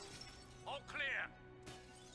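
Glass shatters in a scene from the animated series Star Wars: The Clone Wars, a brief bright crash surrounded by spoken dialogue.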